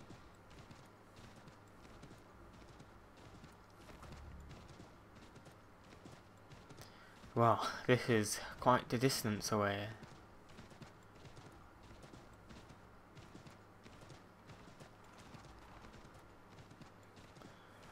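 Horse hooves clip-clop in Assassin's Creed III, a short burst of loud, close hoofbeats in the middle of the clip, set against quieter game ambience while someone talks throughout.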